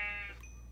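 A sheep bleats once in Minecraft Bedrock Edition, a short wavering nasal cry fading within half a second over a constant low hum, with no talking.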